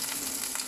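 Beyond Meat plant-based sausage frying in a pan, a short steady sizzle with soft crackling hiss, heard alone.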